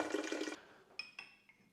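Water streams briefly from a water filter tap, then cuts off, leaving a few faint ringing drips in a quiet room.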